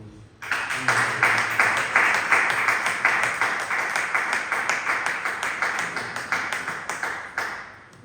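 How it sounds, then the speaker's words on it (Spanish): A church congregation applauds loudly and continuously, with rhythmic, steady clapping filling the room for several seconds before fading. "Dale un fuerte aplauso a Cristo Jesús"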